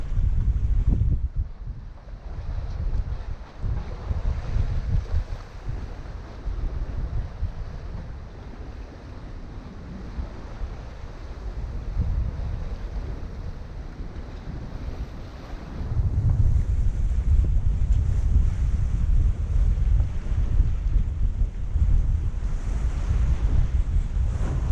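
Bavaria 41 sailboat under way at sea, with steady wind rushing over the microphone and waves washing against the hull, swelling louder near the end; no one speaks.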